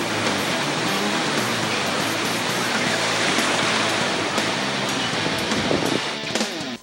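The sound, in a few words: big ocean waves while surfing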